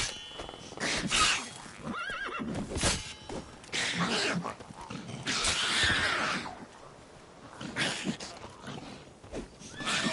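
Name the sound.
horse Roach neighing in video game The Witcher 3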